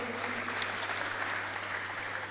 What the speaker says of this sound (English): Once again, a round of applause for Saini